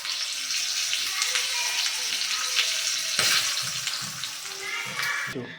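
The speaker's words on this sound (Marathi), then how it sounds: "या सुद्धा छान तळून घ्यायच्या आहेत या तडक्यासोबतच" Spices and ingredients frying in a tadka tempering for khaman dhokla, a steady loud sizzle and crackle throughout, close up, with a brief sharper burst midway and no talk.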